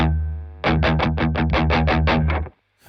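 Electric guitar run through a Wampler Tumnus Deluxe overdrive pedal, playing a loud, driven run of about a dozen evenly spaced picked notes with full bottom end, then cutting off abruptly into near silence.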